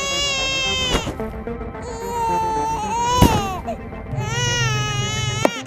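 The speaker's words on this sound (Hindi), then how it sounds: "ये तो बच्चे की रोने की आवाज आ रही है।" A baby down a well cries in loud, repeated wails that rise and fall in pitch, broken by sharp bursts, close and clear with no talking over it.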